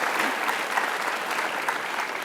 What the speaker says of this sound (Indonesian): Kita kasih tepuk Iya. tangan untuk Bu Lela.